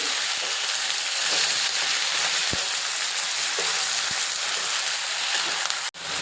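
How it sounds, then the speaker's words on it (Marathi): Fenugreek leaves sizzle and crackle steadily in hot oil in a kadhai, with occasional soft stirring clinks and no talking. "मेथीलासुद्धा तेलात छान अशी परतून घ्यायची."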